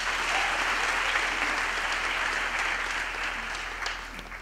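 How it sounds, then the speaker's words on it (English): A graduation ceremony audience claps steadily in a large hall, a sustained wash of applause that holds level before easing slightly near the end. "a round of applause for that grandmother"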